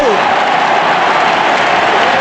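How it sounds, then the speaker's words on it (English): Large football crowd at the 2004 AFL Grand Final between Brisbane Lions and Port Adelaide roars loudly and steadily, a dense continuous wall of cheering and applause, with a broadcast commentator's voice faintly underneath. "The crowd were up."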